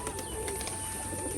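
Pigeons in a loft give a low steady cooing murmur with faint chirps, close and continuous over a short stretch with no voices.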